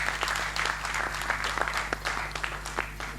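A conference audience applauds during an opening address, a lively round of individual claps distinct over a steady low electrical hum, moderately close and continuous.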